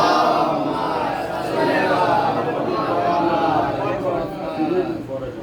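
A congregation at a Shia majlis-e-aza gathering in an azakhana in Balaganj, Lucknow, loudly chants salawat together, a dense, steady roar of many voices filling the space throughout.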